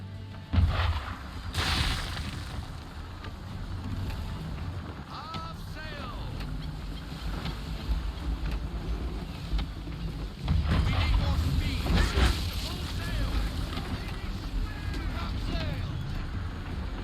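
A sailing ship at sea in the game Assassin's Creed III, with steady wind, rushing water and creaking timbers forming a constant loud bed while voices talk over it.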